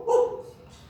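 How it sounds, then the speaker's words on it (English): A dog gives a single short bark, close and fairly loud, fading quickly into quiet. "dog"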